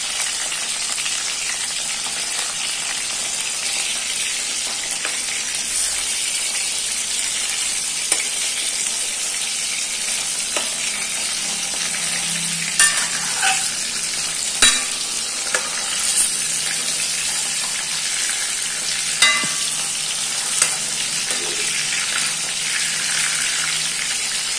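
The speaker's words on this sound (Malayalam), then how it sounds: "അപ്പോൾ കുറച്ചെടുത്ത് ഒരു ഓട് ഞാൻ വറുക്കാൻ വെച്ചിട്ടുണ്ട്." Fish sizzles and crackles steadily as it fries in a pan, a close, continuous bubbling hiss with occasional sharper pops and stirring noises, and no talking.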